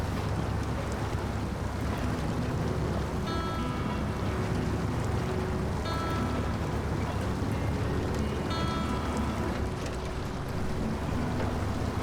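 In SnowRunner, an ANK MK38 truck grinds through deep water on Yukon terrain, a steady roaring wash of spray and engine noise that never breaks, with faint repeated clanks rising now and then.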